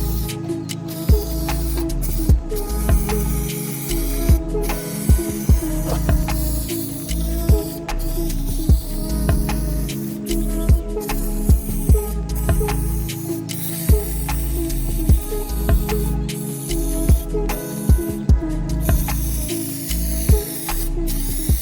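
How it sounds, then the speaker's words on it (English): Repeated bursts of aerosol spray hissing as spray cans paint a car hood, with short clicks between passes, continuing steadily for a long stretch. "I think this has a really nice strong spray pattern"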